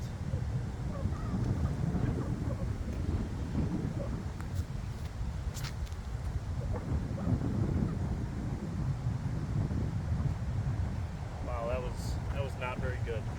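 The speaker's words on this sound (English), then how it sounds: "Wind's picked up a little bit." Gusty wind buffets the microphone outdoors at Rowe Park disc golf course in Onalaska, Wisconsin, a continuous low rushing roar with a brief voice near the end.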